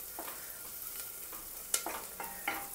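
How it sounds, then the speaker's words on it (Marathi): Onion fries in a pan over a medium gas flame for a Kolhapuri mutton chops dish. A steady close sizzle carries on throughout, broken by a few scraping stirs of a spoon, and no one speaks. "कांदा थोडा भाजत आला"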